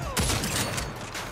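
Gunfire rattles in the Saints Row video game, a rapid volley of closely spaced shots at steady loudness, sounding like a continuous fusillade.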